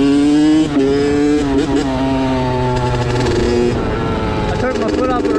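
A Kawasaki KX65 two-stroke pit bike engine revs hard on trails, its pitch rising and falling through several throttle bursts, loud and close throughout, with a rider's voice occasionally audible over it.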